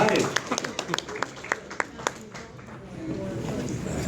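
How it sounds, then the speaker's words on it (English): Scattered hand claps and a short burst of applause for Angela at a Halloween community dinner night, several sharp claps over chatter and cheering voices, with the crowd murmur continuing after the clapping fades. "let's give a round of applause to Angela"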